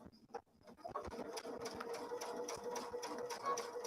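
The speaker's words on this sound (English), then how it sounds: "I know that I'm stitching in the right spot." A sewing machine stitches a quilt with a steady, fast mechanical whir and needle clatter, fairly close and running continuously after a few brief starts.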